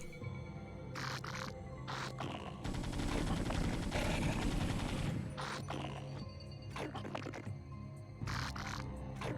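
Gunfire in the StarCraft video game as captive Zerglings are shot, a sustained burst of rattling shots in the middle framed by short clicks and game effects, moderately quiet.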